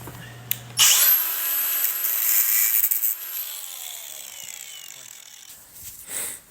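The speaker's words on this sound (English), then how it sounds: "Got the low-profile grinding blade on this." An angle grinder fitted with a low-profile grinding blade cuts into a copper water fitting, starting abruptly with a loud whining bite that holds for several seconds, then winds down, with a brief burst again near the end.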